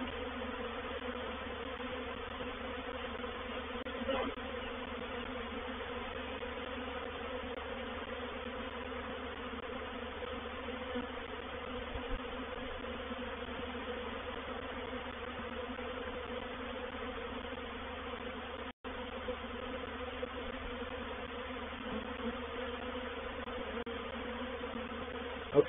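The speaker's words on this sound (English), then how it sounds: "You can see a lot of the bees" A swarm of bees buzzes at a hive entrance, making a steady, dense, moderately faint drone that continues unbroken for the whole stretch with no voices.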